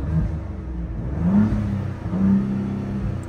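A Ford Bronco Raptor, exhaust set to quiet mode, revs twice from idle. Each rev rises and falls smoothly with a muted, moderate roar, and the engine settles back to idle between them.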